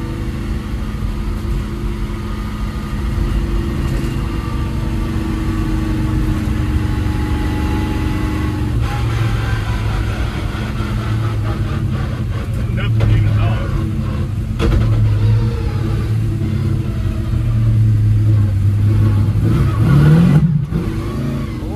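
A 1957 Chevy with a freshly built engine idles with a steady low rumble, then revs in short blips, while people talk over it.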